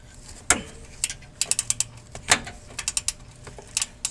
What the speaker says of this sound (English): So I'm using a 19 close box wrench.